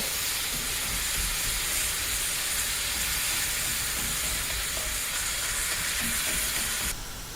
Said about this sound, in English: while we're waiting on that ground beef to finish browning